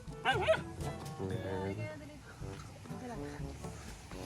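Dogs give short, excited yips and barks close by, mixed with whimpering, while people talk over them.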